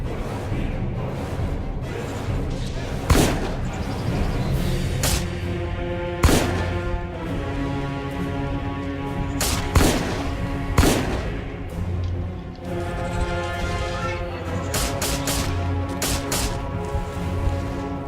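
Gunfire in the Miscreated survival game: repeated loud shots in irregular bursts, some single and some in quick pairs or clusters, over a steady droning background for the whole stretch.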